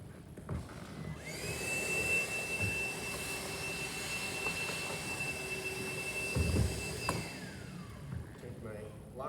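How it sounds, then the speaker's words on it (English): Shop vacuum clearing debris from a freshly drilled hole, a steady loud whine with a high tone that starts, runs for several seconds and cuts off, with a voice heard faintly. "Vacuum that off real quick."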